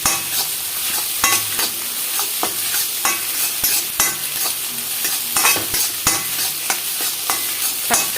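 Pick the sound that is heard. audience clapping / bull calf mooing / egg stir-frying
egg stir-frying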